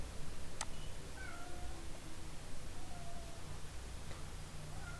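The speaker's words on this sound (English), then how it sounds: "sorry for cat of my home" Faint, short meows from a house cat rise now and then over a steady background hiss, with no one speaking.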